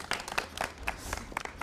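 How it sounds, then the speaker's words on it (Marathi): A studio audience clapping for themselves during a Marathi TV game show, a quick burst of scattered hand claps, moderately loud and brief. "एकदा स्वतःसाठी जोरदार टाळ्या वाजवा तुम्ही."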